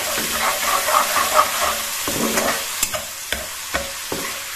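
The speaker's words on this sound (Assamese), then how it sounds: "এতিয়া ইয়াত মই দি দিম বিলাহীখিনি অলপ সময় লৰাই থাকিম বিলাহীৰ কেঁচা কেঁচা ভাৱটো যোৱালৈকে" Chopped tomatoes fry in hot oil for a potato and cumin fish curry, a steady sizzle broken by a run of sharp spatula scrapes and taps against the pan at an uneven rhythm.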